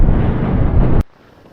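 Strong wind roars loudly across the microphone while riding a Yamaha MT25 motorcycle on the open road, a dense continuous rumble that cuts off abruptly about a second in, leaving faint low background noise.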